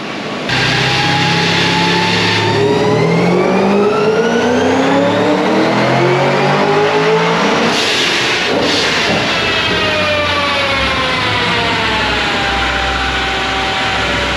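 A turbocharged Pontiac GTO engine roars on a dyno, its loud drone climbing steadily in pitch through a long pull, breaking briefly before rising again, up close and with no voices.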